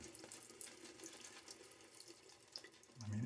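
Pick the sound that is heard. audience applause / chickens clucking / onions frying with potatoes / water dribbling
water dribbling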